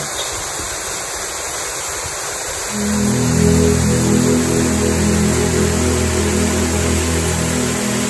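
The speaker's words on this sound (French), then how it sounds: "Ici, nous avons une cascade d'eau chaude et ferrugineuse." A hot, iron-rich waterfall on São Miguel in the Azores pours with a loud, steady roar that deepens and swells partway through, with no voices.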